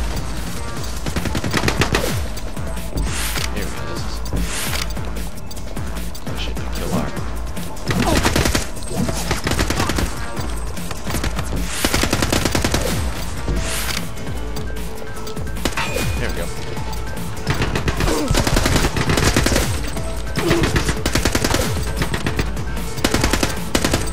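Sustained bursts of machine gun fire in the shooter game The Club, dense and loud, rattling almost nonstop with heavy impacts, while someone talks over the gunfire.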